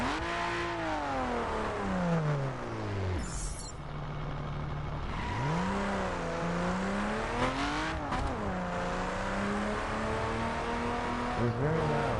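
A BMW Z4 street edition rated at 412 hp, a 2011 roadster, roars loudly as its engine revs up and down repeatedly, rising and falling pitch dominating close by with no talk.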